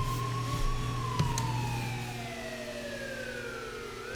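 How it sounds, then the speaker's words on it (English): Emergency sirens in the Burnout Paradise Remastered driving game, a long descending wail sweeping down steadily over a constant low engine drone, loud and continuous with a brief thump near the start. "you can turn off the sirens if you wanted to"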